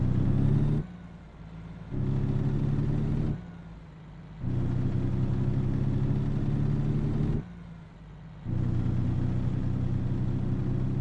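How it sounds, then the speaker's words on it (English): A heavy truck engine drones and rumbles in American Truck Simulator, set in Wyoming. The tone drops back and climbs again several times, like gear shifts, and it stays loud and close throughout with no talk. "I'm not so sure what I think about the sound of this truck"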